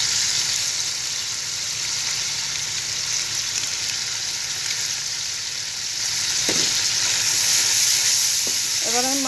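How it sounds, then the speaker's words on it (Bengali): Ready-mix biryani masala with slit green chillies frying in a pan, a continuous loud sizzle and hiss with brief stirring scrapes near the end. "এবার আমি মশলাটাকে সুন্দরভাবে একটু কষিয়ে নেব।"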